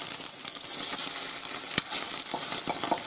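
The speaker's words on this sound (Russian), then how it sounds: "Все хорошо жарится." Food sizzles and fries in a pan over a camp fire on a snowy winter hike, a soft steady crackle with a few utensil taps and scrapes, with no talking.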